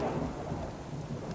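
A thunderstorm in the survival game Subsistence: a low rolling rumble of thunder under a steady hiss of rain, continuous and fairly close, with no voices.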